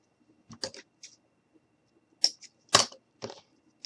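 Short snips of scissors cutting craft material for a Halloween candy boot, a handful of crisp separate cuts spaced irregularly, close and fairly quiet with no talking.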